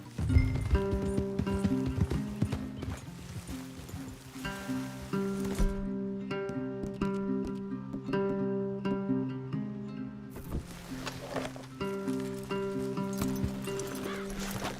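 Horse hooves in the video game Red Dead Redemption 2, a rhythmic clip-clop of riding horses under a tonal musical score, with brief speech over it.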